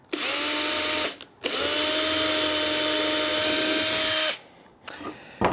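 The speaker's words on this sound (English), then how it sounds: "I just used my drill to drill a small hole through that" A power drill whines at high speed in two steady bursts while drilling a small pilot hole, the longer one running about three seconds, then spins down, with a brief spurt at the end.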